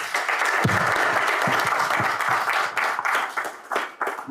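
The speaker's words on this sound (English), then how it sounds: "A round of applause for our panelists." Audience applause for the panelists at a book launch, a dense burst of clapping that stays loud and steady before thinning out into scattered claps.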